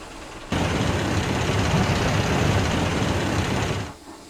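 A train starts up and runs on the rails, a sudden loud, steady broadband rumble that holds for several seconds before fading away, with no talking.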